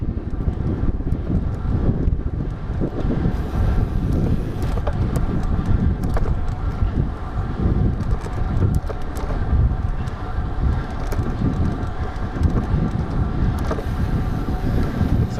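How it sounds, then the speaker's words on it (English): Steady, blustery wind roars across the microphone throughout a bike ride along a mountain brow, a dense low rumble with gusty buffeting and no voices. "And it's windy through here."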